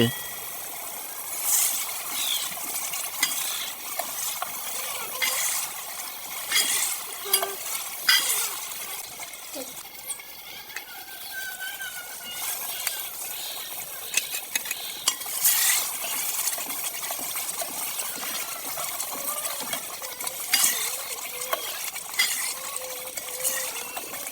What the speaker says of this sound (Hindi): साग शामिल करने के बाद अच्छे तरीके पकाएंगे।